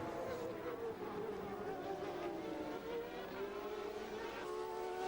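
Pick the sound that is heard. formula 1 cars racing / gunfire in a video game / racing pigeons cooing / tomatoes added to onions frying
formula 1 cars racing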